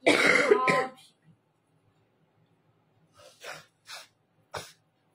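A woman sniffs and coughs at close range, a loud harsh throat-clearing burst at the start, then after a quiet pause a few short, sharp sniffs and coughs spaced out near the end.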